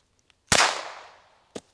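A single sharp gunshot cracks outdoors during gun-dog training of a Wachtelhund and rings off into a fading tail, followed a second later by a short, quieter pop.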